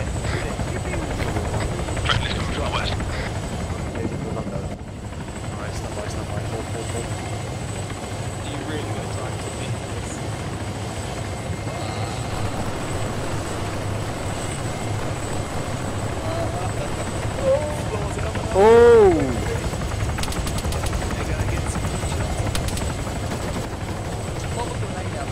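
Helicopter-like rotor and engine drone from a military video game mission holds steady and loud throughout, with bursts of talk and game noise over it.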